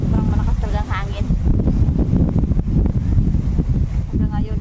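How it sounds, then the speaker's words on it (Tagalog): Strong wind buffets the microphone with steady low roaring gusts at a seaside spot, continuous and loud throughout, with a person speaking over it. "Sobrang malakas talaga ang hangin."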